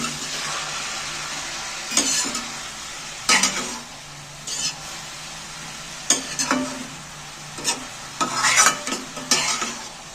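Spinach and mung dal with salt are stirred in a pan, the spatula scraping and knocking in uneven bursts over a soft steady sizzle.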